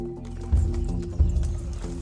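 Franches-Montagnes army horses tread carefully over slippery ground, with two heavy hoof thuds standing out against a low background rumble and no voices.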